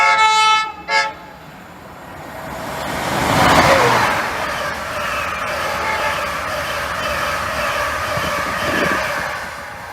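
An LNER intercity train with Mark IV sets at Newark Northgate sounds two short horn toots, then roars through the station with a rising, rushing rumble that swells and lingers.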